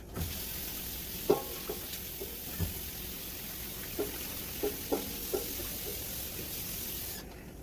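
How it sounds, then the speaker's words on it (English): Hands are washed under a running tap, a steady hiss of water with rubbing and light splashing bursts, close and alone without speech. "now let me wash my hands"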